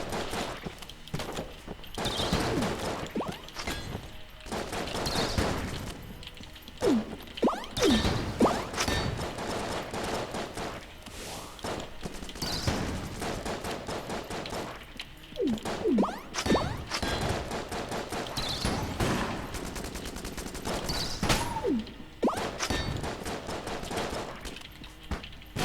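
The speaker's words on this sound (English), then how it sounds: "No piercing, but it does seem to cause kind of an explosion" Rapid gunfire bursts in Enter the Gungeon, each shot bursting into a small explosion where it hits, rattling in dense volleys with short pauses between runs, moderately loud and with no talking over it.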